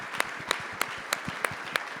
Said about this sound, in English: I think he should get a round of applause for what he's done for West Fargo and the region